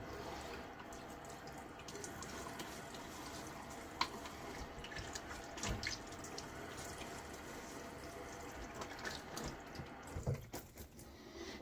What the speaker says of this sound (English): Now, let's do our little half rinse,